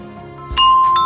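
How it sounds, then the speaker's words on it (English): A couple of bright, ringing mallet notes sound in quick succession, clear and close, with a light lingering tone. "Xylophone."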